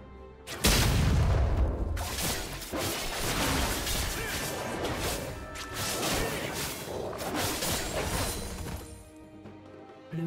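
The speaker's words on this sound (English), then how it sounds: "Blue team's turret has been destroyed." A turret is destroyed in League of Legends, a heavy crashing impact followed by a long dense rumble of debris and whooshing effects, loud and sustained before fading out.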